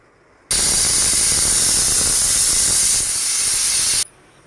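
A pressure cooker cooking lentils lets out a loud, steady hiss of steam that bursts for a few seconds, then cuts off abruptly, close and alone.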